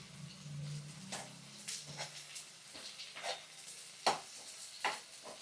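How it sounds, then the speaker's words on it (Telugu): Onions and green chillies stir-fry in a pan for paneer 65, with a steady soft sizzle under repeated scraping and stirring clicks from a utensil, close and moderately quiet. "ఇలా ఆనియన్స్ని అండ్ పచ్చిమిర్చిని ఒక 2 minutes వరకు ఫ్రై చేసుకుందాం"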